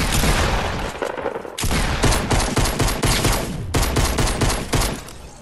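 Rapid pistol gunfire in the Fortnite video game, a dense barrage of loud, close shots fired in quick bursts with brief pauses between them.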